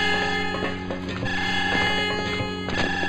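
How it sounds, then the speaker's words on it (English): Electronic alarms blare in the video game Jedi Knight: Mysteries of the Sith, a steady shrill ringing tone held throughout with overlapping game sounds and clicks beneath it. "How many goddamn alarms are there?"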